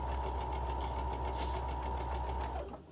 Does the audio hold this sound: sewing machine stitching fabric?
yes